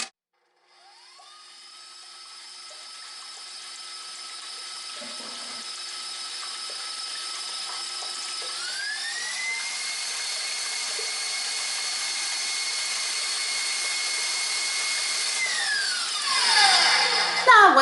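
An electric mixer beats eight eggs for chocolate cake batter, a steady whirring motor whine that holds for many seconds and shifts up in speed partway through before spinning down near the end, with no talking.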